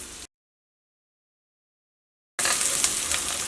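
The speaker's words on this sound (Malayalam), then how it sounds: "സവാള ഒന്ന് ചെറുതായിട്ടൊന്ന് മുരിഞ്ഞ പോലെ വരണം." Finely chopped onion sautéing in oil in a pan, a steady close sizzle that cuts in after a stretch of silence and carries on with faint stirring clicks.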